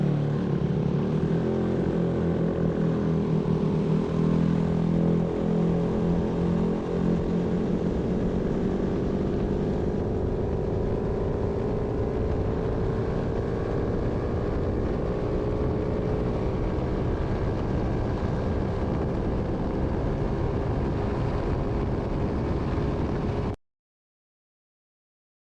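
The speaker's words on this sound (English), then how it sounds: "I'm going to run this thing out to about 60 miles an hour. I'll do a drag race." A GY6 scooter engine revs hard as the scooter accelerates to about 60 mph in a drag run, a loud, steady drone that climbs in pitch and holds for over twenty seconds before cutting off abruptly.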